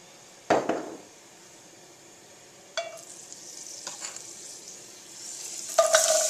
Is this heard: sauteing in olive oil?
yes